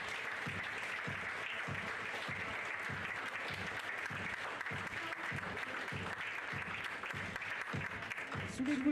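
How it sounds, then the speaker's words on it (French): Applause at an outdoor prize-giving for pony carriage-driving medal winners, steady clapping from a crowd lasting throughout, with a voice briefly audible at the end. "je vous demanderai de les applaudir bien fort"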